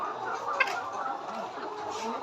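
Layer chickens on a poultry farm cluck, a short stretch of close, soft clucking and murmuring with one sharper squawk near the start, over a low background hum.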